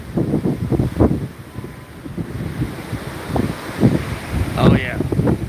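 Strong Hurricane Milton wind gust in Florida buffeting the microphone in rough surges, with a person talking over the roaring wind.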